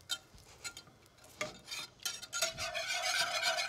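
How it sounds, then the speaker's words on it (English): Cold butter whisked into a sauce, quick irregular metallic whisk scrapes and swirls in a pan, close and fairly quiet, building to steady whisking. "Just whisk cold the butter. Cold butter right into it."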